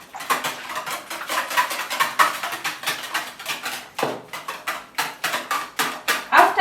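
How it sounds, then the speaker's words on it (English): Eggs and milk are whisked briskly in a bowl, making a fast, regular run of sharp metallic taps and scrapes at roughly three strokes per second, with a brief pause partway through, loud and close with no talking. "We add our milk and keep on whisking."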